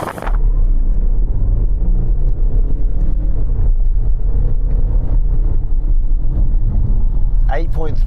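A 2-litre diesel car of about 204 horsepower accelerating hard from a standstill with some wheelspin: loud, steady engine and road rumble heard from inside, with a rising rev sweep near the end.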